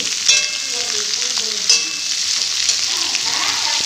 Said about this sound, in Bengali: আস্তে আস্তে সব সবজিগুলো দিয়ে একটু ভেজে নেব